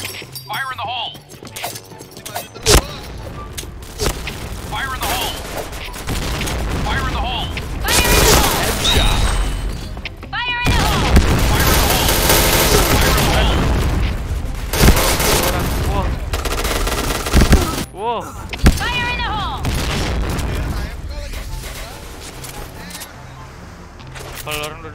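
Loud, dense video game combat: grenade blasts boom repeatedly amid rapid bursts of gunfire and shattering, near and continuous across the scene, with players shouting over the chaos.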